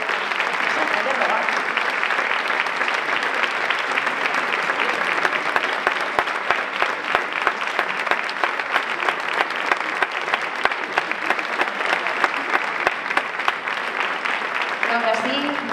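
A concert audience gives a band conductor sustained, dense applause, many hands clapping steadily and fairly loudly for the whole stretch, with a few sharper individual claps standing out.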